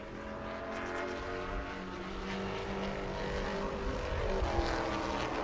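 JT Chastain's race car rounds turn four at New Smyrna Speedway during World Series qualifying, its engine a steady, distant drone that holds evenly through the clip with no talking.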